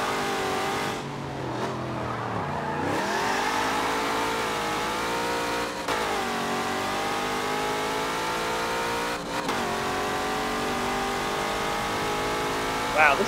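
A race car engine revs and pulls hard in the Forza Motorsport 7 racing game, rising and falling through gear shifts with brief dips, loud and continuous, while someone talks over it.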